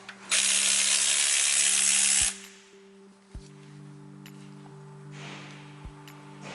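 A 12mm nut is worked off the timing tensioner of an engine, heard as a loud, close burst of hissing mechanical noise lasting about two seconds, followed by a low steady hum and a few sharp metallic clicks.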